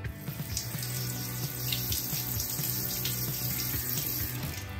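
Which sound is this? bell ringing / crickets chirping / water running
water running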